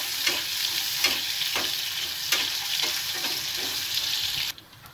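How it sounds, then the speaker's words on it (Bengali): Potato sticks for french fries fry in hot oil, a steady close sizzle with occasional stirring clatters, then the sizzle cuts down sharply near the end. "তেলটা গরম হয়ে গেছে, সিদ্ধ করে দিলে ভালো হয়, আমি সিদ্ধ করার সময় নেই, ইচ্ছাও নেই, এইভাবে ফ্রাই করি।"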